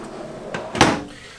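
A drawer in the kitchen of a 2023 Keystone Montana HC 295RL fifth-wheel RV slides open with two quick, close wooden knocks, the second sharper and louder, then fades.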